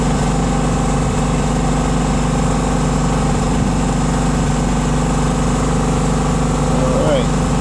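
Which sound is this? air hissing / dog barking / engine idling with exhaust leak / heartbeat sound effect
engine idling with exhaust leak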